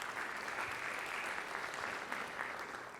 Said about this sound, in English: Can we give a round of applause to McDSP as well?